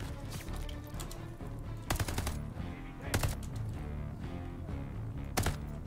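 Automatic gunfire in Call of Duty Vanguard crackles in short bursts, with a few louder volleys standing out above a constant busy battlefield background.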